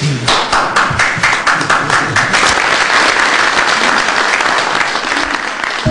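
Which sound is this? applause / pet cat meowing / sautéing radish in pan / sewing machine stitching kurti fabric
applause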